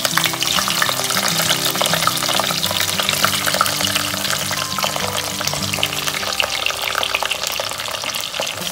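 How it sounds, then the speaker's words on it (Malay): Salted fish frying fast in hot oil for an Indian salted fish curry, a loud continuous crackling sizzle with steady bubbling throughout and no talk. "I am frying this in oil just very fast to retain the color."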